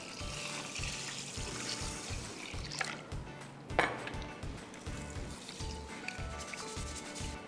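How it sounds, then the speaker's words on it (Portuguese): Clean water pours from a tap into a bowl of washed rice for barazushi, a steady close rushing and splashing that runs throughout, with one brief louder splash midway. "E acrescentamos mais água limpa."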